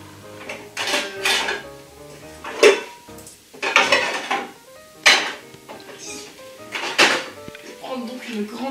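Pots, pans, a large saucepan and dishes clatter and clank in several bursts as kitchenware is handled while making a lemon tart, with a person talking in between.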